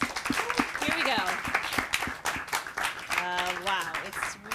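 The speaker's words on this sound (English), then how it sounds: "Give them a round of applause." An audience claps and cheers for a band introduced on stage at a music show, continuous applause with a voice talking over it.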